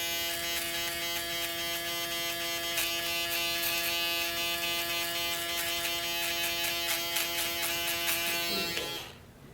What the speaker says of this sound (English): you could use your shaver